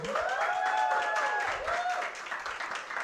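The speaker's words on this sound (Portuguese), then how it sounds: "Vamos ouvir a Luciana e palmas para ela." An audience applauds a speaker being welcomed onstage at a talk on inclusive cities, the clapping a moderate, steady wash mixed with some tonal voices or cheers.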